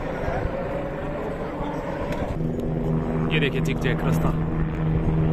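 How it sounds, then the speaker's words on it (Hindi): A helicopter flies high overhead above the mountain footpath to Kedarnath, its steady drone growing clearer midway under continuous talking and outdoor ambience. "ये जो ऊपर हेलीकॉप्टर जा रहा है ये काफ़ी ऊंचाई में जा रहा है"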